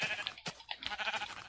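A sheep in Minecraft on the Xbox 360 bleats in a short, wavering cry, brief and fairly quiet, with no talk over it.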